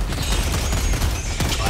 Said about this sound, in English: Mortar's going off.